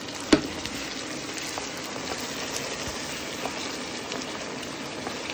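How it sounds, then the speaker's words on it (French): Broth poured into a hot pan of sausages, opening with a sharp splash followed by a steady, fairly quiet sizzle and bubbling that continues throughout. "On déglace avec un peu de bouillon"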